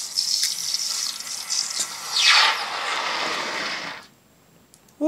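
Hot cast silver round plunged into water for quenching: a loud, close hiss and bubbling gush that swells after two seconds, holds, then cuts off abruptly near the four-second mark.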